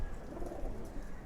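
Silver pigeons coo in low, soft rolling tones close by, a steady murmur filling the short moment with no talking.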